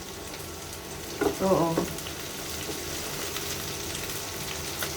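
Carrots and beans sauté in a hot pan with a steady, close sizzle and a brief burst of stirring, while a voice briefly makes a short exclamation.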